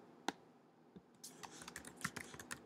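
Fingers tap a Mac keyboard to enter a chart title in Excel 2011, giving a faint, close run of quick, uneven keystrokes after one isolated click.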